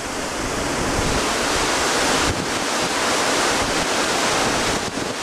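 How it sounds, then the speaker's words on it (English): Storm waves from Tropical Storm Ernesto splash against a seawall on the Chesapeake Bay, a loud, unbroken roar of surf and spray mixed with strong wind buffeting the microphone. "My own seawall isn't doing much better as the giant waves splash up."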